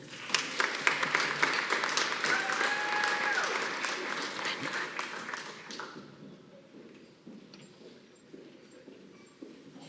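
Commencement audience at a December university graduation ceremony applauding graduates, a dense burst of clapping that fills the hall for about six seconds, then fades into quieter room noise.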